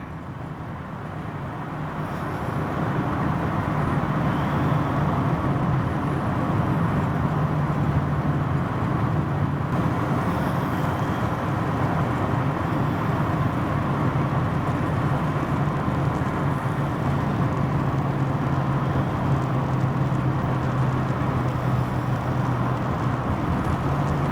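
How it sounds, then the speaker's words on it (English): A 1965 Ford Mustang cruising down a busy freeway, heard as a steady drone of engine and road noise that rises slightly at the start and then stays even and continuous, with no talk. "As you can see, it drives down the road just fine."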